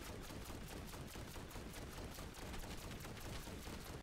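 Ray Gun firing in Black Ops 6 Zombies on the Liberty Falls map, a dense, continuous barrage of loud, close energy shots with heavy gunfire texture running for several seconds, no voices over it.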